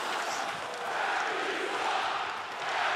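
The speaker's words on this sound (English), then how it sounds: "Crowd chanting to the referees." Hockey crowd at an OHL game between the Sault Ste. Marie Greyhounds and Hamilton Bulldogs chanting at the referees, a loud, steady massed roar of voices filling the arena without letup.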